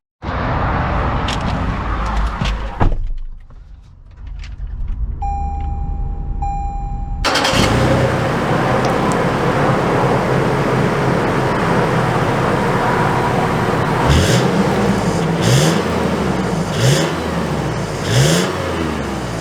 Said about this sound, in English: We are setting off here in the 2022 Toyota 4Runner